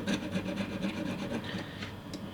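A well-used, rusted razor scraper rasps in steady back-and-forth strokes, a continuous gritty scraping close by with no talk.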